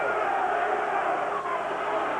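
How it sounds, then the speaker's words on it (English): A boxing arena crowd chanting for Frank Bruno during his fight against Oliver McCall, a dense, steady roar of many voices filling the hall at constant loudness, heard from within the crowd. "The crowd chanting again for Bruno"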